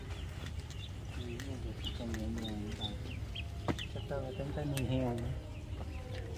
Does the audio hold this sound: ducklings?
yes